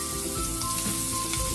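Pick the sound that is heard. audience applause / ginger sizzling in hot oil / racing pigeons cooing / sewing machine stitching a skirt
ginger sizzling in hot oil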